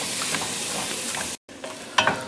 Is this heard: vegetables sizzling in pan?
yes